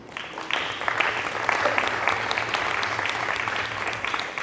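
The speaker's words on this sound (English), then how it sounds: "I think they deserve a round of applause." Audience applause at a university data day event, a steady dense wash of many hands clapping that stays loud and even throughout, with no voices over it.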